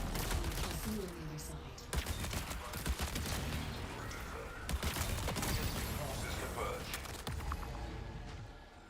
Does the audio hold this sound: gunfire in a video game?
yes